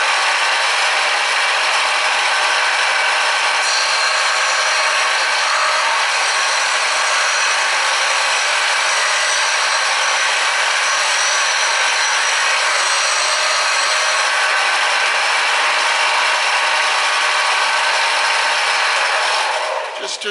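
An abrasive power tool with a dull abrasive roughs out the radius on a guitar body, a steady, loud, continuous grinding rasp that holds for about twenty seconds before easing off at the very end.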